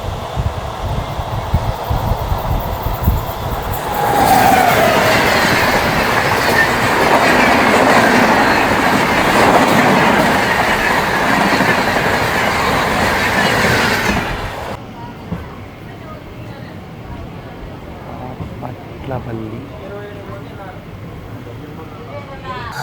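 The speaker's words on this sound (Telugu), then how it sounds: "మననైతే సికింద్రాబాద్ టు గుంటూరుకి వెళ్ళే ఇంటర్సిటీ ఎక్స్ప్రెస్ క్రాస్ చేయబోతుంది." The Secunderabad–Guntur Intercity Express crosses close by with a loud, sustained rumble and clatter of wheels on rail for about ten seconds, then cuts off sharply, leaving quieter background noise.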